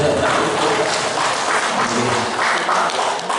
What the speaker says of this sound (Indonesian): tepuk tangan malih